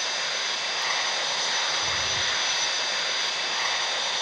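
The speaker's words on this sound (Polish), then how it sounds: "Nie, dobra, to tam to był samolot." Airplane engine roar from the video game Flight Simulator 2018, a steady broadband jet-like rush that holds loud and unchanging throughout with no talk.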